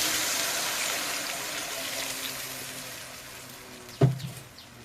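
Water pours steadily into a pot of fried spiced potatoes, a continuous hissing gush near at hand that tapers slightly before a sharp metallic clank near the end.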